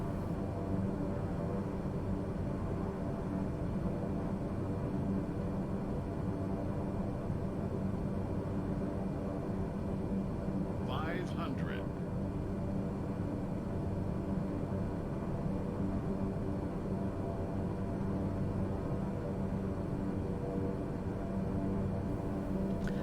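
Airliner landing in Microsoft Flight Simulator on a game approach, a steady broadband engine roar and rushing hum filling the whole stretch at constant loudness, with a brief higher whine midway.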